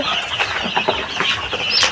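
Many chicks peep and cheep together in a coop, a steady, busy chorus of small high calls that runs without a break from start to finish.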